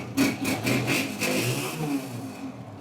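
A used Honda 125 motorcycle engine revs up close by in a few quick pulses, a mid-pitched throaty roar that settles and fades toward the end.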